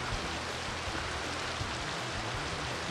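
Steady, dense rain pours in the video game Baten Kaitos Origins, a continuous even hiss with no breaks.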